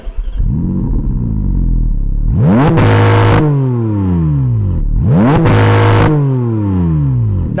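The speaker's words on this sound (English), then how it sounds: "the Spyder RS gets Porsche's GT 4-litre flat 6 motorsport derived engine, and it sounds like this." A Porsche Spyder RS's motorsport-derived 4-litre flat-six racing engine screams up to a piercing wail twice, each burst falling away through the revs, loud and close.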